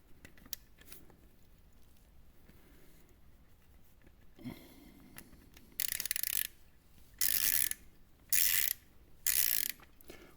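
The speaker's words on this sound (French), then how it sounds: "avec notre clé dynamométrique et notre embout de 8," Torque wrench with an 8 mm bit tightening the oil drain bolt on a BMW R18 motorcycle: four short, loud bursts of fast ratcheting clicks in the second half, following quieter handling noises.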